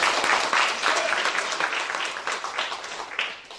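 Worshippers at a Sunday service at Chungcheong Central Church give a round of applause, a close, even patter of many hands that swells and softens slightly throughout.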